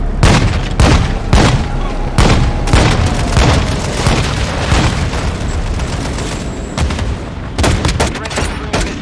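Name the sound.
missile strike explosion in Call of Duty: Modern Warfare 2 video game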